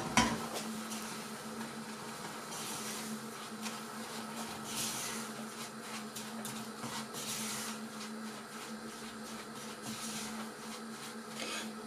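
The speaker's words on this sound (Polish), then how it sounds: "I mieszamy." Ground poppy seed mixture stirred in a bowl for a Polish poppy seed cake, a continuous scraping and swishing with soft knocks against the bowl and a steady hum underneath, no talking.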